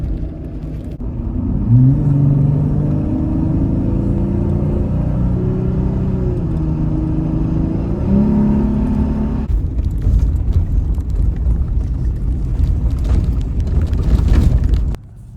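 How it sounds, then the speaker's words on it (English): A Jeep engine on a sandy off-road trail revs loud and close in a deep rumbling drone, with pitch rising and falling through several throttle swells before settling into a rougher idle-like roar that cuts off. "it's beautiful and sounds really nice when you give it some gas"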